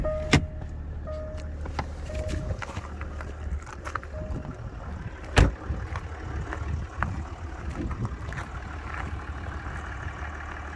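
A Jaguar XJL Portfolio idles steadily outdoors, its low engine rumble continuous beneath occasional clicks, a sharp knock, and light wind buffeting on the microphone.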